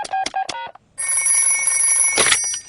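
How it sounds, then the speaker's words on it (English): A cartoon telephone rings loudly and close, with a few short trilling bursts, a brief pause, and then a sustained bright electronic ring with a sharp accent near the end. "Don't worry. I'll ring Dr. Brown Bear."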